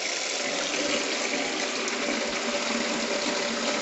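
Cold water poured into a container for washing fruit and vegetables, a steady, continuous rushing splash that holds an even level throughout with no voices.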